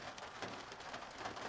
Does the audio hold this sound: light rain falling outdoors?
yes